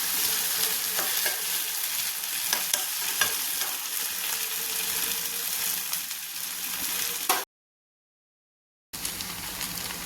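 Curry leaves sizzle in hot oil in a pan of Kerala jackfruit masala, a dense crackling hiss with intermittent stirring scrapes and clicks, close and steady, broken by a brief silent gap near the end before resuming.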